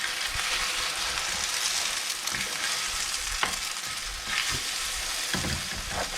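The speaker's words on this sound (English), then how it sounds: "And stir vigorously." Egg being stirred vigorously as it fries for stir fry rice, a steady close sizzle broken by repeated scraping knocks of a utensil against the pan.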